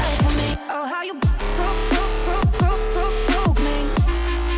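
Second drop of a jump up drum and bass track switched to halftime, heavy wobbling bass and sparse hard-hitting drums with a brief silent gap before the full groove slams back in loud and dense.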